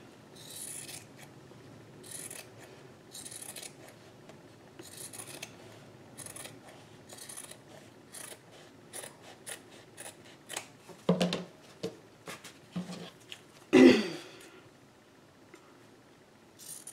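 Scissors trim fabric hanging past a chipboard spine piece, making a run of short, quiet snipping and rubbing cuts in an irregular rhythm, with a couple of louder handling knocks near the end.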